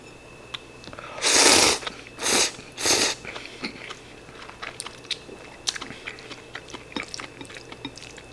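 Chewing and slurping of Taiwanese mazesoba noodles, two servings eaten at home, with three loud close bursts of eating followed by quieter scattered mouth clicks and small crunches.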